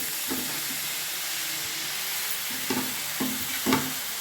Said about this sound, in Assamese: এতিয়া দিম ৰঙালাওৰ পাতখিনি, কাটি থোৱা পাতখিনি